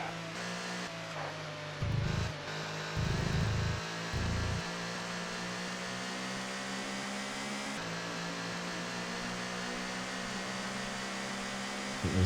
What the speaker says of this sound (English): There was a lapped car in the pits there.